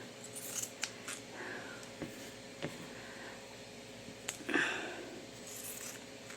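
Pinking shears snipping fabric, several quiet crisp cuts scattered over a soft background hiss.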